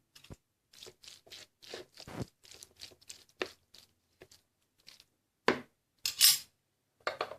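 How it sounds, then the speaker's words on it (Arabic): Small macaroni pasta goes into a bowl for a salad in a quiet kitchen, making a sparse series of light clinks, rattles and scrapes in irregular short bursts. "كنوضعوا هذيك الكميه ديال المقارونيه الصغيره اللي عندنا"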